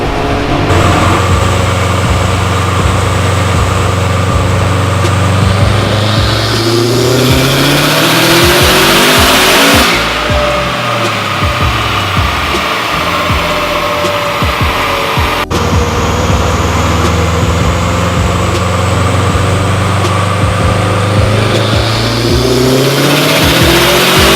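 A car on a dynamometer revs at full power, the engine roaring loud and steady as it climbs through the gears in long sweeping pulls. It lifts off briefly around the midpoint, then winds up hard again.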